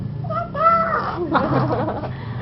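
A voice imitates a cat, giving a drawn-out, wavering meow with a rising and falling pitch, loud and close in a quiet room.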